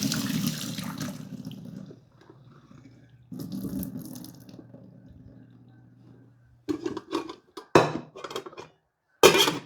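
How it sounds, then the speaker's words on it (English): Water from a pot of boiled rutabaga or turnip is poured off in a kitchen, a gurgling splash broken by pauses and sharp clanks of the pot. "Drain the rutabaga or turnip, whichever it is you have."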